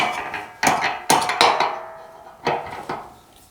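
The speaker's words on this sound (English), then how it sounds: "we just use this ginormous Allen key to help us tighten it" Button head screws on a bed frame being tightened with a very large Allen key, heard as five sharp metallic clanks and knocks at irregular intervals, close and fairly loud, each with a short ringing tail.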